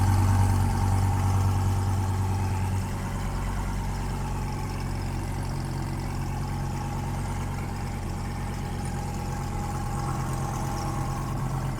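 A 1000-whp Dodge Viper fitted with a Procharger F1X Gen5 supercharger idles steadily on E50 fuel right after startup, a loud, constant low rumble throughout with a slight drop in level after the first few seconds and no talking.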